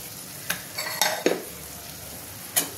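Masala with whole green chili and salt being sautéed for ghugni, a soft steady sizzle broken by a few sharp spatula scrapes and taps against the pan, close and alone.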